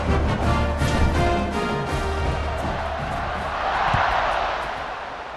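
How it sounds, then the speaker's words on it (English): Stadium crowd at a college football game, BYU Cougars hosting a Week 1 FCS opponent, roaring steadily as the teams line up for the kickoff after a short-yardage touchdown, a loud sustained wash of cheering that swells near the end. "They're set to kick it off, and this crowd now ready to get behind them."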